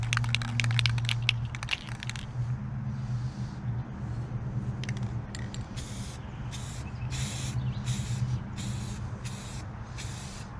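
Spray paint from an aerosol can hisses onto the tail panel of a 2001 Camaro Z28 in short bursts: a long steady spray first, then a run of brief puffs, close and unaccompanied by talk.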